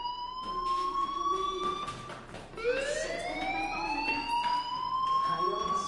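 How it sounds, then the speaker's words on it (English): Fire alarm sounding inside a building in the video game Life is Strange, a loud repeating electronic siren with rising sweeps that drone on steadily, with faint voices underneath. "do you hear that fire alarm?"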